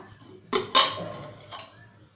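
A few metallic clanks of a cooled pressure cooker lid being handled and lifted after cooking sprouted chickpeas, with a sharp clatter in the middle and quieter knocks around it.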